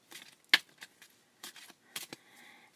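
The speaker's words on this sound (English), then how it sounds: "So I'm actually going to do a shuffle here." A deck of oracle cards being shuffled by hand, with a few sharp riffling snaps and soft card slides in short bursts, close and quiet, no talking.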